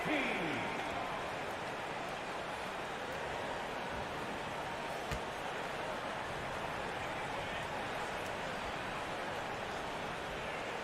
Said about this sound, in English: please give a round of applause for your past powerhouse team